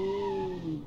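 A 1980s fleet car with a turbo EFI engine sliding on the handbrake in a racing game: a brief, loud, steady tire squeal whose pitch slowly drops, heard alone at close range.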